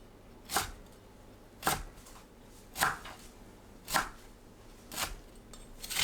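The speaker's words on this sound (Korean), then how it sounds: "뭉친 곳을 풀고 간추려서 2cm 길이로 썰어줍니다" A knife cuts spring greens into 2 cm lengths on a board in six evenly spaced, crisp chops about a second apart, close and clear over a quiet background.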